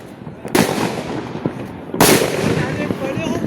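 Firecrackers burst twice during a Diwali night celebration in Gandhinagar, each a sharp loud crack with a crackling tail, spaced about one and a half seconds apart while friends chatter and shout around them.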